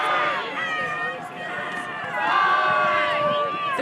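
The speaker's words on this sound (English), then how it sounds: "The quintessential Texas fight cheer there." Texas quidditch fans at the US Quidditch Cup sound a fight cheer, a sustained, rising crowd shout with tonal chanting, heard under a commentator's voice.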